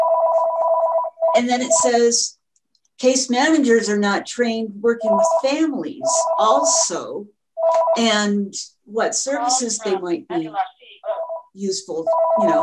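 A telephone rings in short repeated bursts of electronic tone, mid-loud, mostly under and between a person speaking at a meeting.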